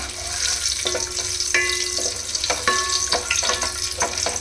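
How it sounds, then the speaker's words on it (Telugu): Whole garam masala spices crackle and sizzle in hot oil, with stirring scrapes and clinks of a spoon against the pan; a steady close frying hiss throughout, with no talking. "ఆయిల్ అయితే వేడెక్కిపోయింది. నేను హోల్ గరం మసాలా వేసేసుకుంటున్నాను. ఒకసారి కలుపుకుందాం."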